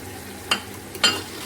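Meat and tinda frying in a pan, heard as a low, steady sizzle with two brief, louder scraping stirs up close.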